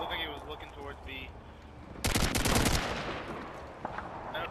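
Gunfire in a tactical shooter video game, a sudden loud burst of rapid shots lasting about a second, with fainter background game sounds and voices talking before and after.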